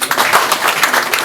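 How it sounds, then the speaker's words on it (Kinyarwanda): Audience applause at a community harvest-day (Umuganura) gathering held by genocide survivors, a dense steady clapping from a crowd filling the short stretch at even loudness. "mwamumenye amashyi"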